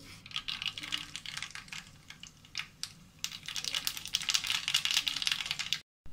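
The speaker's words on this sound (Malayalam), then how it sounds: "ഇനി ഇതിലേക്ക് നമുക്ക് കടുക് പൊട്ടിക്കാം." Mustard seeds crackle and pop rapidly in hot oil, an irregular clicking that grows busier before stopping abruptly.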